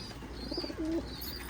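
Pigeons in a breeding cage where squabs are kept give a couple of soft, low coos over quiet background noise, brief and fairly near.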